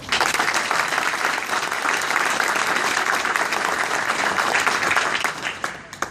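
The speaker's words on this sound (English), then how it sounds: "They all need a round of applause again." A hall of fame induction audience at Vintage High School gives loud, sustained applause, a dense wash of clapping that holds steady before thinning out at the very end.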